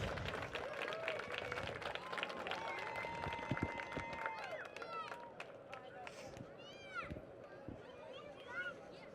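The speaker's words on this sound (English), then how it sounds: "All right, fans, let's give them one more round of applause." Fans at a speedway give a round of applause, moderate clapping mixed with crowd murmur and some whistles, fading somewhat toward the end while voices chatter nearby.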